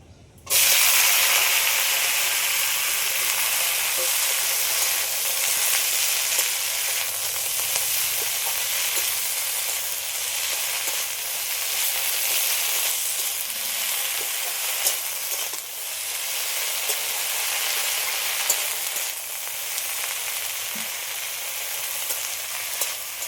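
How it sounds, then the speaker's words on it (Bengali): Leafy greens sizzle steadily in hot oil left from frying potatoes, a loud, continuous broadband frying hiss with occasional stirring scrapes, no voices. "আলু ভাজা তেলের মধ্যে শাকটা একটু হালকা করে নেড়ে নেব"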